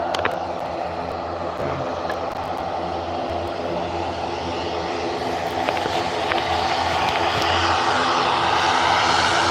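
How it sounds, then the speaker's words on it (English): An Aer Lingus airliner takes off at Liverpool Airport at night, its engines a loud, steady jet roar that builds slightly over the stretch, heard alone without talk. "So the Aer Lingus is taking full runway, guys."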